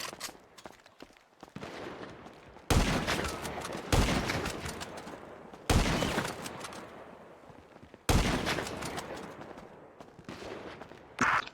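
Gunfire in a video game gunfight: four heavy, booming shots at irregular intervals, each with a decaying tail, over lighter crackling fire and scattered clatter.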